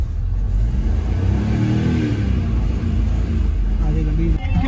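A car engine runs steadily as the car drives with its bonnet open in heavy rain, a continuous low rumble with a brief rev near the end.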